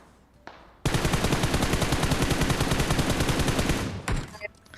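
Rapid automatic gunfire in the PUBG Mobile video game, a dense loud burst of shots lasting about three seconds, preceded and followed by a few quieter sounds.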